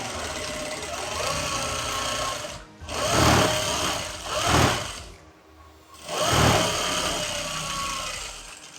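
A sewing machine runs stitch after stitch on a child's skirt-and-blouse outfit, loud and close, in three sustained bursts with short pauses between them and no voices.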